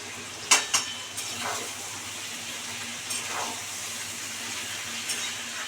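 Green chillies and sugar dropped into a hot frying pan bring sharp crackling bursts at the start, settling into a steady hiss of sizzling oil with occasional small pops.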